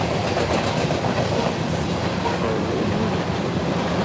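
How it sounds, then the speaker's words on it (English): A long freight train hauled by four mainline diesel engines rolls past, a continuous broad rumble with rhythmic clickety-clack of wheels over rail joints, steady and fairly close throughout. "Four mainline engines. This will be a big train."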